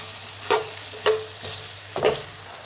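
Onions go into hot oil in a pan, with brief sizzling bursts about every half second as they are stirred, over a low steady kitchen hum.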